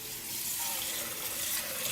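Cold tap water pours steadily into a kitchen bowl, a loud, continuous, close hiss and splash that holds even from start to finish without any talk.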